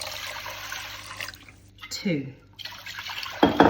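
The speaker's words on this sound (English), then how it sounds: "To that, I add exactly double the water. So that's 2 builder's mugs of water." Cold water pours from a builder's mug into a pan of uncooked rice, a brief gush and splash that stops and then resumes, with a voice speaking briefly.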